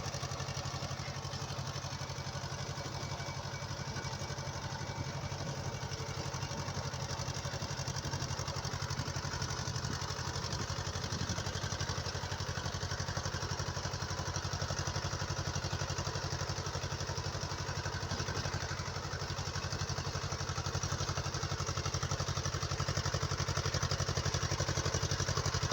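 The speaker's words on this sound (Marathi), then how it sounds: "तर असा ट्रॅक्टर मी 1-2 वेळेस चालवला होता, पण असा रोटरीचा नव्हता चालवला." A tractor with a rotary tiller attachment runs in a farm field, its steady engine drone and rattling clatter continuing at an even level throughout with no talking.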